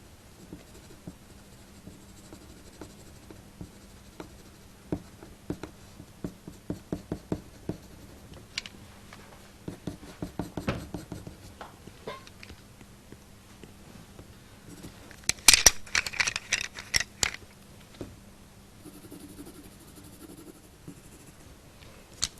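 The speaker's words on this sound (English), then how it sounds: "Little burnishing again." Coloured pencil burnishes paper while drawing a wooden bowl texture, soft quiet scratchy strokes in quick repeated rhythms, with a denser flurry of firmer rubbing strokes near the end.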